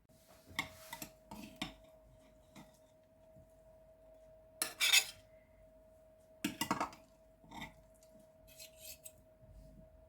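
Cutlery scrapes and clinks against a dish while cutting a casserole made from frozen cauliflower, a few irregular bursts of metal-on-plate scraping separated by quiet pauses, close and fairly soft, with a steady faint hum underneath.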